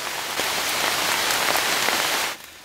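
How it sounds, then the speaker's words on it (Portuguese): Steady rain pouring in a jungle, a dense continuous hiss of drops hitting leaves and surfaces, close and fairly loud, then dropping away abruptly near the end. "É chuva."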